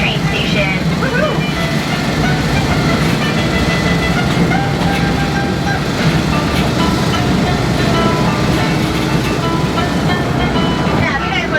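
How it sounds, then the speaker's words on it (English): Hawaiian Railway train pulling out of the station, with a steady loud rumble and clatter of the moving cars throughout. Passengers talk and cheer over it. "Everyone, we're leaving the train station."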